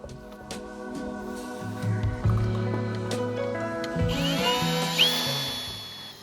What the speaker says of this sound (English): I pre-drilled all the necessary holes and fit the lock onto the gate using 150mm screws.